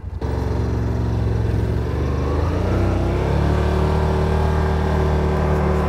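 A Yamaha Wolverine RMAX4 1000 side-by-side engine starting in crawl mode, a loud close crank that catches into a steady throbbing idle, rising slightly in revs toward the end.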